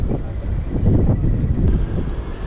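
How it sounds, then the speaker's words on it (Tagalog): An airplane flies low near an airport while coming in to land, a loud, steady roaring rumble that swells slightly through the middle, mixed with wind buffeting on the microphone and no talk. "Malapit lang kami rito sa airport eh. Kaya inaabangan ko yung eroplano."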